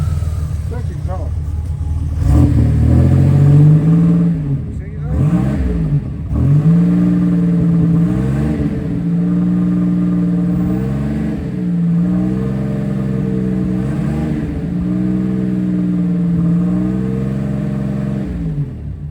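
A turbocharged Buick Grand National's engine, smoking from a suspected turbo or valve seal fault, idles roughly and revs up and down several times, loud and close, with a steady mechanical drone between the revs.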